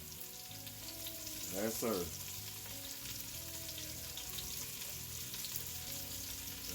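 Oxtails fry in a small saucepan with a continuous soft sizzle, and a short voice speaks briefly over the cooking noise.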